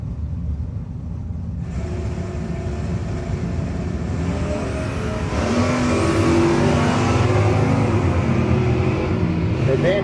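Mopar and Chevrolet drag cars launch at a no-box 660 shootout, engines roaring loud and building in pitch as they accelerate away, a dense mechanical wall of sound.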